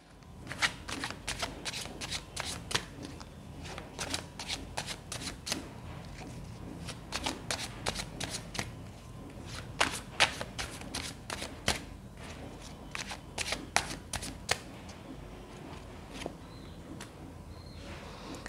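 Tarot cards shuffled continuously for a spread, a busy run of crisp riffling flicks and soft slaps up close, with no talking.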